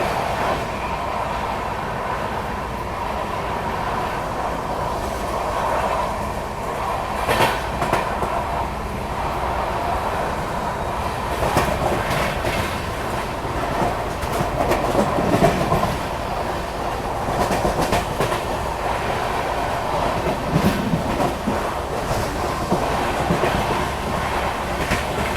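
An Indian Railways Patna–New Delhi special train rolls through Hathras Junction station without stopping, its wheels clattering in steady rhythmic clicks over the rails with occasional squeals and rumble, loud and continuous from start to finish.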